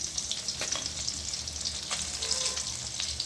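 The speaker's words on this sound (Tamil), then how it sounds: "வெங்காயம், காஞ்ச மிளகா, தக்காளி, பொட்டுக்கடலை, சோம்பு எல்லாத்தையும் போட்டு, தேங்காய் எல்லாத்தையும் போட்டு நல்லா வதக்கிக்க வேண்டியது" Onion, tomato, dried red chilli, roasted gram, fennel seed and coconut sautéing in a pan for tomato kuzhambu, a steady close sizzle of frying with occasional stirring scrapes, no voices.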